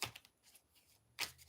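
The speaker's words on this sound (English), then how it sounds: "Let's shuffle these cards right" Tarot cards being shuffled by hand during a reading, giving two short crisp riffling bursts at the start and end with quieter soft card handling between, close and alone.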